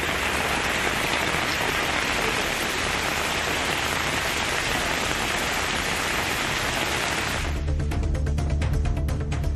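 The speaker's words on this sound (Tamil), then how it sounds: "வேலூர் மாவட்டத்தில் இடி மின்னலுடன் கனமழை வெளுத்து வாங்கியது." Heavy rain pours down during a thunderstorm in Vellore district, a dense, loud hiss of drops drumming on surfaces that continues unbroken, with the tone shifting sharply near the end as the pattering gets more distinct.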